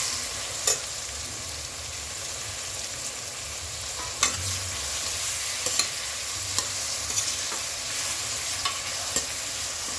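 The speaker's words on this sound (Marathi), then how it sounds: "आणि गॅस एकदम मोठा ठेवून कांदा अगदी छान आधी परतून घेऊ." Finely chopped onions sautéing over high heat in oil with mustard seeds and asafoetida, a steady crackling fry broken by occasional spoon taps and stirring scrapes, nobody speaking.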